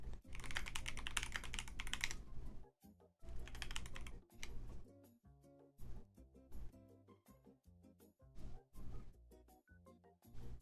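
Rapid typing on a new computer keyboard, dense bursts of key clicks and clacks in an irregular rhythm with brief pauses, close and clear with no voices.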